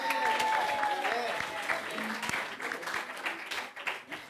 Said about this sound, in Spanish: Y un aplauso a los maestros que también se lo merecen.